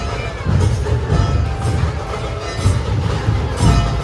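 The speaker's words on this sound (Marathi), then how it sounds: "बॅनर गर्दी जाम आहे जाम गर्दी आहे पाय ठेवायला जागा नाही" A dense, packed crowd at a Gudi Padwa festival procession in Dombivli, a steady loud roar of many voices and shouts with low rumbling pulses, continuous throughout with no pause.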